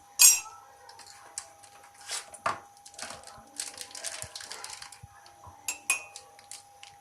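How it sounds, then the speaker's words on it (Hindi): Spoon scraping and clinking in a metal pan while cocoa powder and water are stirred into a thick chocolate paste, with irregular close taps and scrapes throughout. "अब हमने इसको इतना अच्छी तरह मिक्स करना है कि ये गाढ़ा सा एक चॉकलेट का पेस्ट बन जाए।"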